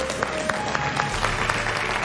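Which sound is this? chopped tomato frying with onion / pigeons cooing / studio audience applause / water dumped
studio audience applause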